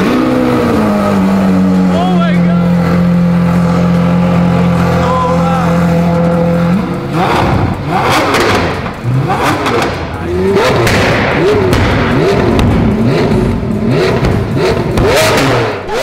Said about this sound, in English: this is my first time hearing the car, by the way, after the exhaust is put in